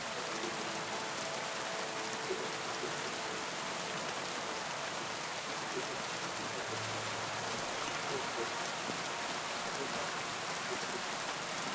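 Steady, dense rain in the video game Kingdom Come: Deliverance II hisses continuously, a wide unbroken wash of falling water with no pauses.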